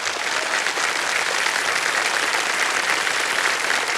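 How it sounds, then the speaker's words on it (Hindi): Studio audience on a televised Hindi quiz game show breaks into steady, dense applause that holds at an even, loud level for the whole stretch, with no speech over it. "तालियां बज जाए इनके लिए।"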